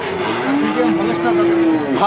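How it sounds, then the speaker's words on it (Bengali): A Friesian breed bull at the Aronkhola cattle market in Pabna lets out one long, loud, steady moo close by, rising slightly at the end. "স্ট্যান্ড জাতের গরু ষাড় গরু"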